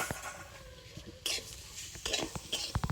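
Grated coconut with sugar and cracked cardamom is stirred in a kadai, a soft gritty scraping of a spoon through the mixture with light clinks against the pan, growing busier toward the end.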